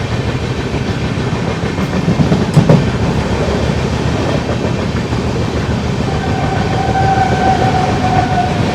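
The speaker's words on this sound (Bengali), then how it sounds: "হাওড়া থেকে বর্ধমান মানে মেন লাইন তো একশো দশের ট্র্যাক তো ট্রেন থেকে একশো দশ স্পিডেই চলছে" A train on the Howrah–Bardhaman main line runs at about 110 km/h, giving a loud, steady rolling rumble with rhythmic clickety-clack of the wheels on the rails, and no voices.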